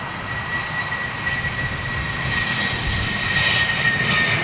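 A Boeing 777 airliner passes at London Heathrow, a steady, loud jet engine roar that swells slightly toward the end, with a thin high whine running through it and no voices.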